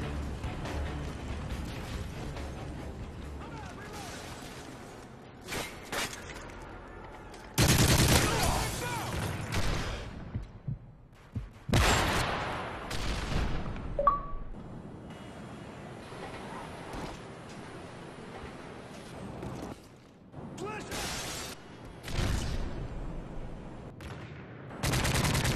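Bursts of rapid gunfire from a golden gun during a Search and Destroy match in a Call of Duty-style shooter, loud clustered volleys separated by quieter stretches, with faint voices underneath.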